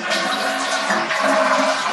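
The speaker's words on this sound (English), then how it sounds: "when you flush the toilet," A toilet flushes in an Airbnb rental bathroom, giving a loud, close rush of churning water that stays steady and full for the whole stretch, with no voices over it.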